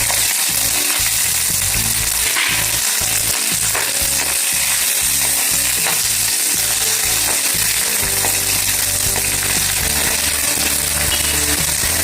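Garlic sizzles in hot oil in a pan while cooking a winter pigeon pea curry, a loud continuous crackling fry with rhythmic scraping stirs, alone with no voices.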